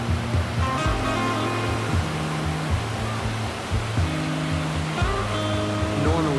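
Ocean surf rolls steadily onto Patong Beach in Phuket in the afternoon, a continuous loud wash of breaking waves with low rumbling swells recurring about every second, with no voices.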